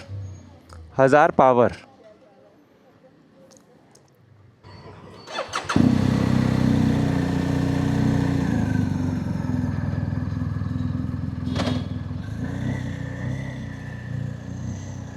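A superbike starts up after refuelling: brief bursts of voice come first, then the engine fires and holds a loud, steady running drone as the bike pulls away.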